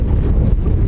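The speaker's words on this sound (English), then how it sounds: "We did end up with a little wind today." Steady wind buffets the microphone out on a Kansas lake from a fishing boat, a loud low rumbling rush that lasts under a second, with no talking.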